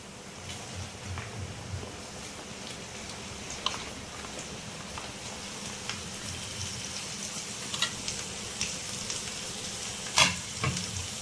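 Ivy gourd pieces fry with softened onions in a pan, giving a low, steady sizzle. Scattered spatula taps and scrapes are loudest toward the end.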